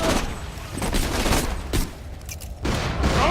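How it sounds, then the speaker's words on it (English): Rapid pistol fire in Borderlands 2, a dense run of loud overlapping shots in quick succession with a brief lull before the volley resumes. "Oh, this pistol is just too good."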